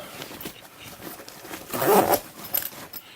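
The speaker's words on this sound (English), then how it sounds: "Zip this back up." A zipper on a sling bag is pulled closed up close, a short rasping run with a louder burst near the middle and a brief final tug, with light handling rustle around it.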